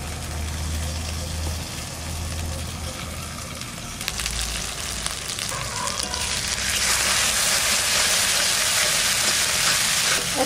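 Spiced masala paste with turmeric, salt and sour yogurt sizzles and is stirred in a pan while a duck egg curry cooks, the hiss steady and growing louder and brighter in the second half.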